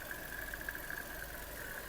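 A Skoda Octavia 1.6 engine running on gas/petrol idles steadily nearby, a constant low rumble with an even mechanical hum and faint ticking, no voices.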